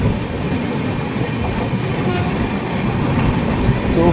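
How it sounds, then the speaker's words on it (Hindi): Triveni Express passenger train (15074, Tanakpur to Lucknow route) rolling on the rails near Pilibhit, with a steady, loud rumble and rhythmic wheel clatter heard from inside the coach throughout. "ट्रेन अपने अगले stoppage Pilibhit junction railway station की तरफ बढ़ चली है"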